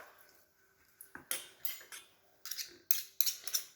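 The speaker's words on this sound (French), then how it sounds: "Vous mélangez le tout." A spoon scrapes and clinks against a dish while seasoning is stirred together with pepper and salt, in short irregular bursts of bright metallic clatter with quiet gaps between them.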